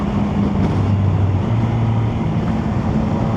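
Chinese motorcycle with stock exhaust, its engine humming at a steady low drone close by with slight pitch shifts as it runs, wind noise over it.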